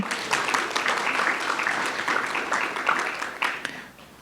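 Steady applause from an audience at a spring induction and send-off ceremony welcoming new inductees, a dense wash of many hands clapping that fades toward the end.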